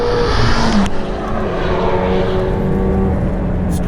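McLaren 720S exhaust note in track mode, a loud, sustained engine drone heard from inside the car at a steady pitch with no talk.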